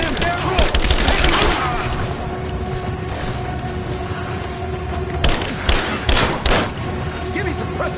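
Gunfire in the action game Rise of the Tomb Raider, several loud cracks and thudding bursts over a continuous low mechanical din, with shouted voices in the fight.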